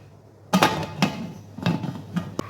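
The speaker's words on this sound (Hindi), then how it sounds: "फिर हम प्रेशर कुकर को बंद करेंगे" A metal pressure cooker lid is shut on a pot of mutton yakhni pulao in a home kitchen, giving several sharp clanks and knocks, one after another, loud and close.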